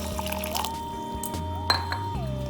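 Water is poured into a pan of spiny gourd and potato curry during Odia home cooking, a short liquid splash and clink heard close up over a steady background hum.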